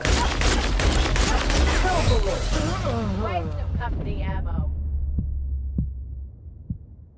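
Rapid electric-gun bursts from The Outer Worlds video game fire in a dense, loud flurry, then taper into a few sparse, fading shots, while someone talks over the action.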